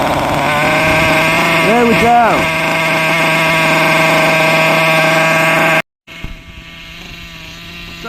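A Hobao Pirate nitro RC car engine runs loud and steady with a buzzing drone after being pull-started, a brief voice over it, then cuts out abruptly near the end before a quieter restart or sputter.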